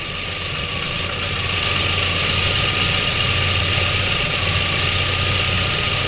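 Volkswagen carbureted engine idling steadily in a workshop during idle speed and CO adjustment, a constant close hum with a faint rhythmic ticking above it, unchanging throughout.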